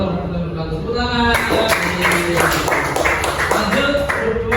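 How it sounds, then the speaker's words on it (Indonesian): A classroom group of students bursts into applause after a group presentation during a teaching practice session, a dense burst of clapping starting about a second in and carrying on to the end, with voices mixed in. "Tepuk tangan."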